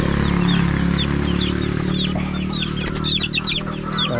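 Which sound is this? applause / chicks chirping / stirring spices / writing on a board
chicks chirping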